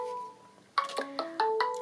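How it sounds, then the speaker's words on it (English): A mobile phone ringtone plays a short melodic run of bright, clear notes, starting with a sustained tone and then a quick series of rising and falling pitches, moderately close with no talking over it. "I do beg your pardon, that's my phone."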